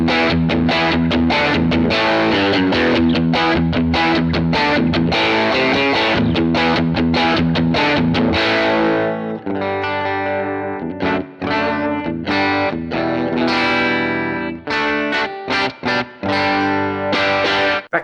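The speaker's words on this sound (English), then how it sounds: "I had this kind of raw rock and roll sound that you get by turning the gain and master volume up" Electric guitar through a Fender tube amp with gain and master volume turned up plays chunky, distorted chords and riffs, loud and gritty, with rhythmic stops and sustained crunchy notes.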